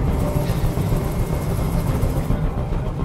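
A helicopter hovers in the video game Detroit: Become Human, a steady, loud low rotor and engine rumble that fills the whole stretch without a break.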